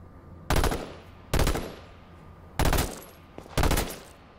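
Heavy gun fire in the video game H1Z1, four loud, separate bursts spaced about a second apart, each a sharp blast that trails off, with no talking.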